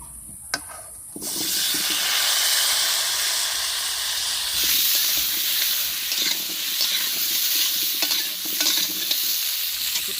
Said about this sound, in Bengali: মাংস রান্না করার জন্যে কিছুটা আলু দেবো তাই আমি ভেজে নিচ্ছি